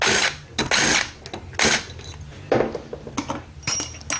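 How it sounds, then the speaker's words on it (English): A socket wrench works on bolts from an old Honda Odyssey transmission during a teardown, giving bursts of ratcheting clicks and metallic scraping in uneven strokes with short pauses between them, close up and with no talk. "I think it's gonna be easier to use the socket here."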